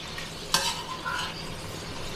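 Leaf lard renders in a pot on a stovetop with a soft, steady sizzle. A spoon stirs through it with a brief scrape and clink near the start, close by and without speech.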